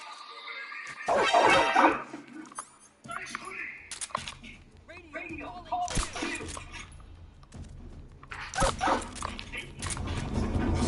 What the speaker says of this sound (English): Damn dog snitching.